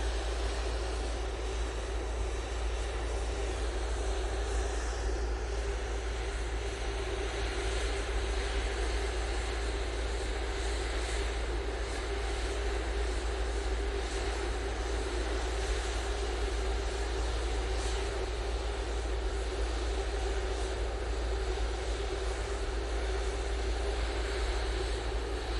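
An airliner takes off from Manchester Airport bound for Palma de Mallorca, giving a continuous, even jet roar with a heavy low rumble that holds steady throughout, with no voices.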